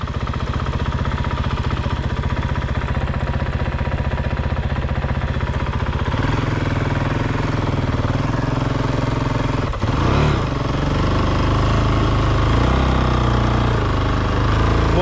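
A dual sport motorcycle rides through soft dirt, its engine droning steadily and loudly up close, with a rougher surge in the low end partway through as the tire digs in.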